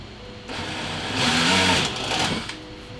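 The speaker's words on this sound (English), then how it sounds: "So what I'm basically doing is drilling basically a hole right here." A high-pitched power drill whirs up for about two seconds, straining briefly as it bites into a reptile cage to drill a hole, then winds down; close and fairly loud.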